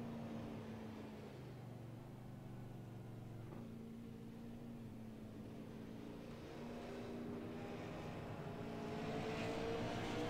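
Super late model race car, number 4, on an asphalt oval during qualifying, its engine droning steadily at a distance with a harmonic whine that swells slightly toward the end.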